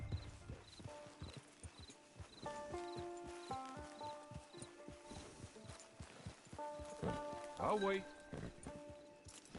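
Horse hooves clip-clop at a steady walking rhythm in Red Dead Redemption 2 Online, with game voices speaking over them and a short musical chime near the end.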